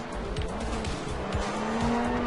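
A car in the game Sleeping Dogs drives hard with an engine roaring and tires squealing, a loud and continuous drone with repeated skids and no voices.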